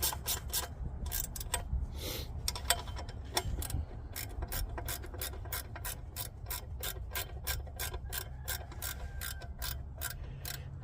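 Ratchet wrench turning bolts, giving a long run of rapid, evenly spaced clicks close up, with a few slower irregular clicks and rubs at the start, no talking.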